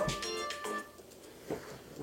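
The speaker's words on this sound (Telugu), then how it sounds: "ఏమో కాల్ వస్తుంది చూడు." A mobile phone plays a melodic ringtone for an incoming call, a faint, repeating tune of clear electronic tones that fades out near the end.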